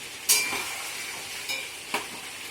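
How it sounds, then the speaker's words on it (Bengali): Whole cumin seeds drop into hot oil in a pan while fish heads fry, giving a soft steady sizzle with a few brief scraping spatula touches, close by and fairly quiet, no voices. "এর মধ্যে একটু গোটা জিরে ফোড়ন দেবো, নিচ্ছি।"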